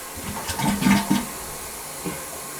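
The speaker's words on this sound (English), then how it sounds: "If the bowl level is low, it won't flush right." Toilet in a rental property flushing slowly with weak flow, a soft, uneven gurgling swirl of water with a few louder surges amid quiet hiss.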